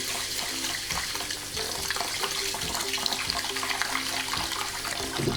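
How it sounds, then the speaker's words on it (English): Tap water pours steadily into a pot of raw rice for rinsing before making grilled onigiri, a continuous splashing rush filling the space with no voices. "Add some water."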